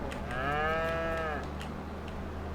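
A cow in Farming Simulator 22 gives a single drawn-out moo, clear and close, over a steady low background hum.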